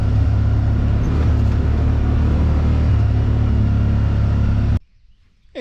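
A 2024 Yamaha Wolverine X2 1000 side-by-side rumbles loudly and steadily over rocky terrain, engine drone and jostling noise filling the recording before it cuts off abruptly near the end.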